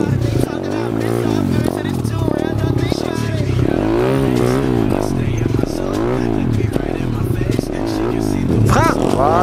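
Dirt bike engine rising and falling in repeated revving bursts as a rider lifts into a beginner wheelie and brakes, under nearly constant talk from a nearby instructor.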